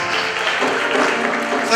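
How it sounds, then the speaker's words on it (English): A crowd at a graduation ceremony applauds the director, steady dense clapping for under two seconds, mixed with voices. "A round of applause for our director, ladies and gentlemen, please."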